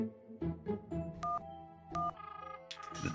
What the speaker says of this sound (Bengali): রিং হচ্ছে ধরছে না কেন